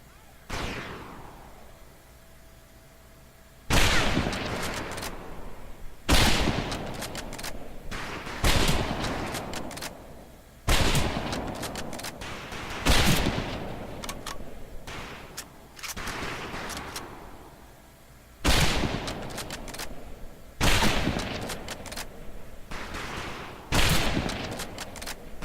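Rifle fire on a boot camp firing range in Medal of Honor: Pacific Assault, with repeated loud volleys of several rifles every few seconds, each followed by a brief echoing tail.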